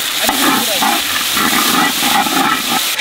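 Onions and ground ginger-garlic paste stirred in a pan for a wedding-style yam cutlet, with a loud, steady scraping and sizzle carrying on throughout, close to the listener.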